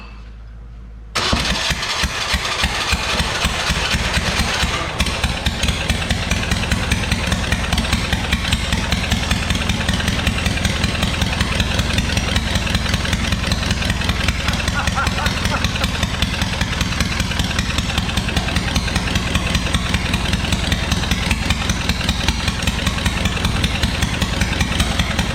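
A spider forklift's engine starts and then runs with a steady, loud, close rhythmic idle. Someone speaks over it.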